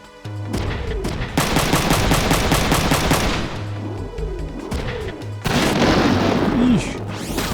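Gunfire rips through a Front Mission mech battle as a player shoots at an enemy machine: rapid machine-gun bursts, heavy booms and crashing impacts, loud and close, with brief pauses between volleys.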